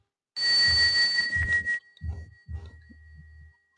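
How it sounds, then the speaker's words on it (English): A bell is rung close by, a bright steady ring that sustains for over a second over low thumps and handling noise, followed by a few scattered softer knocks and fading resonance. "let's ring the bell"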